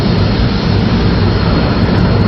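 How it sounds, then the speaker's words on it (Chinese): A propeller airplane carrying Hu Lian lands at Shuangduiji during the Huaihai Campaign, a loud, dense, steady engine roar that fills the whole stretch without pause. "胡琏的飞机落到了双堆集"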